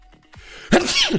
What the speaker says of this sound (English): there's a sneeze for everybody.